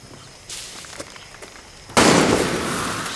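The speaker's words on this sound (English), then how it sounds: "who's shooting?" Gunfire in the Far Cry 6 video game: quieter movement sounds, then a sudden loud, sustained burst of rapid shots that keeps crackling to the end.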